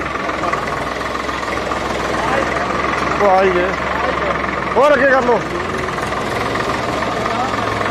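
A tractor engine idles with a steady low rumble throughout, in a flood-affected village in Kapurthala, Punjab, while people talk briefly over it nearby.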